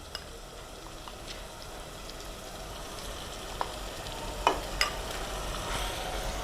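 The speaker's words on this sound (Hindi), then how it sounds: "और इसका कलर चेंज होने तक इसे फ्राई करेंगे।" Steady low sizzle of mutton frying in a pan, with a few sharp scraping clinks of a utensil stirring toward the end; no voices.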